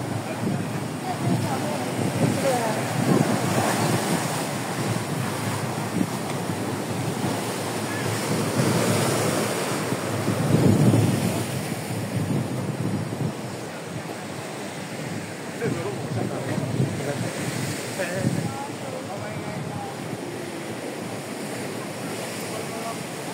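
Sea waves wash against the coast of Taiwan while steady wind buffets the microphone, a continuous surging roar with swells that rise and fall, and people can be heard talking faintly underneath.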